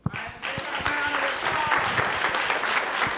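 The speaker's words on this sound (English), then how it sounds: "Let's give Sahai a round of applause." Audience at a Martin Luther King Jr. Day of Service event applauds after a speaker finishes, a steady, moderately dense round of clapping heard at a moderate distance.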